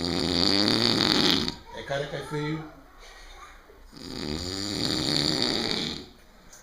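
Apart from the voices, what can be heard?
pig snoring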